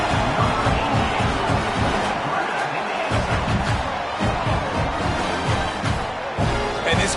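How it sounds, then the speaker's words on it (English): A large football stadium crowd roars continuously after a Florida State touchdown, a dense, loud wall of cheering and noise that swells and holds throughout. "And this crowd was already jacked up."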